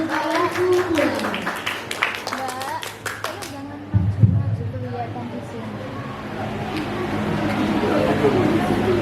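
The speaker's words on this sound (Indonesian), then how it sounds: "Marilah kita beri tepuk tangan yang meriah untuk kelas 12 bangsa dengan judul Ayahku Pulang." An audience at a school performance by a grade 12 class claps in a burst of rapid, fairly close applause that fades after a few seconds, followed by a quieter room with murmuring voices.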